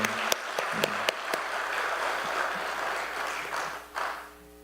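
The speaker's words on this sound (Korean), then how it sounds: "우리 특별 박수로 우리 한 번 더 격려해 주시기 바랍니다." Church congregation applauding during an afternoon worship service, a few sharp claps up front giving way to steady group clapping that swells briefly near the end and then fades out.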